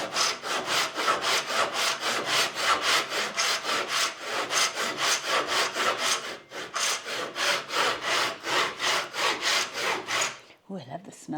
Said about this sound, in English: let the saw do the work. Your job is to keep it straight, perpendicular to the board now, so you get a nice end cut.